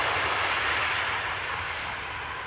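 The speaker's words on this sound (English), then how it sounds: "Emirates 195, landing without even applying reverse thrust." An Emirates airliner landing at Amsterdam Schiphol Airport without reverse thrust, a steady broad jet engine roar heard from a distance, gradually fading as the aircraft rolls out.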